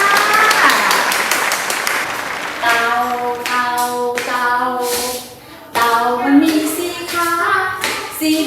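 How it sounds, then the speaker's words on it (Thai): Rhythmic hand clapping comes in regular beats at an early-childhood class, mixed with a teacher's singing voice and musical tones carrying a children's song about a turtle. "ปรบมือดังๆเลยค่ะ"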